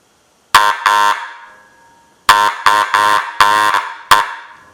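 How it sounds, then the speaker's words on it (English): Loud restored antique car horn on 12 volts blares in short bursts: one double honk, a pause, then four more honks in quick succession. "Our restored horn."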